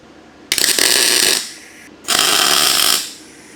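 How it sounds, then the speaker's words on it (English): A welder tacks a bracket in a 4WD engine bay, making two loud, close bursts of crackling, hissing arc, each lasting about a second, separated by a short quiet gap. "So I get the welder ready."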